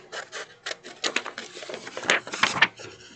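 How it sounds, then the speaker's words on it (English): Scissors cut trim down to size with a quick run of close, dry snipping and rasping strokes, some sharper than others, each short and crisp with no voice over them. "at this point you can use your scissors, and we're gonna cut this down to size"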